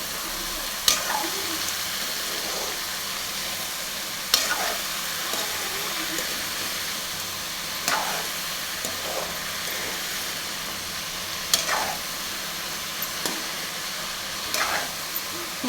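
Ridge gourd and tomato sauté with rock salt in a pan, giving a steady, soft sizzle with a few sharper stirring scrapes every few seconds. No one speaks.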